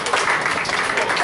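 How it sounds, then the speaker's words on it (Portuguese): A church congregation claps and cheers in a continuous rush of applause at a rock worship event, with voices mixed in. "Louvado seja com as suas palmas."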